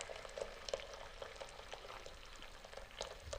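Egg korma gravy made with coconut milk bubbles at a steady boil in the pan after fried eggs go in, giving a close, continuous sizzling simmer with small irregular pops and no talking.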